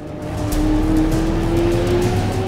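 McLaren Senna driving hard on a race track, a loud sustained engine roar that swells and holds steady at close range, with a faint tire squeal.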